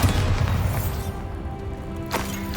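A deep boom from the Bombarda blasting spell in the Hogwarts Legacy game rolls out at the start, with a rumbling tail that fades. A second, sharper impact comes near the end.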